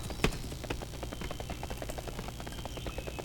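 Unicorn mount hooves clip-clopping in World of Warcraft at Mount Hyjal, a steady rhythmic trot of hoofbeats close and clear over a low game ambience.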